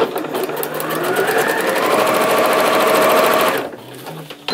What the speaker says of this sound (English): and now just go like this and sew it down